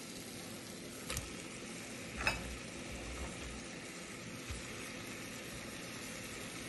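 Cut tomato pieces frying in a pan with onion and garlic for menthi pappu, a faint, steady sizzle with a few light clinks of stirring.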